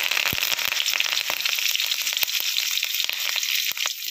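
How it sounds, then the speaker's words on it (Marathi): Curry leaves sizzle and spatter in hot oil with mustard seeds and cumin in a wok, a loud, steady crackling fry with dense sharp pops close up and no talking. "यामध्ये कढीपत्ता घालायचा"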